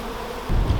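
Honeybees buzzing during a spring hive inspection, a dense steady drone close by that swells louder in the second half, with no talk over it.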